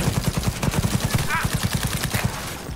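Rapid automatic gunfire from the Cyberpunk 2077 video game, with dense, regular bursts of shots rattling at close range and loud over a busy mix.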